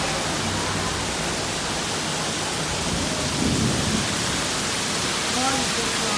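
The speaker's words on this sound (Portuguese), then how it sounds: "muita chuva mesmo" Heavy rain pours in São Luís, Maranhão, a dense continuous hiss with low thunder rumbling through it, loud and close, with no voices.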